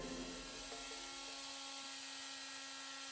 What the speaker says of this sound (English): After letting the expanding foam dry for a night, all I have to do is cut it off.